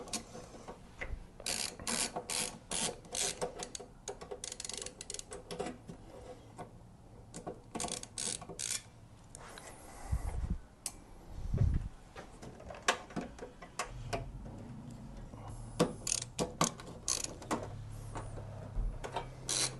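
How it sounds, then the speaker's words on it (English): A homemade wooden lazy susan turns a desktop PC, giving repeated ratcheting, grinding clicks in bursts with a few heavier knocks, close and fairly quiet, without speech. "So I built this Lazy Susan so I could like spin my PCs around while I work on them."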